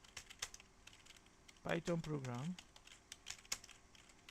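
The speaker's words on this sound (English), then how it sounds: "But let me type it here first." Clicks and taps of typing on a computer keyboard come in scattered bursts, close and fairly soft, pausing while someone briefly speaks in the middle.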